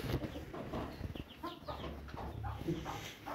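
Several chickens clucking softly in a coop, a run of short, close murmuring clucks and calls rising and falling, fairly quiet with light background rustle.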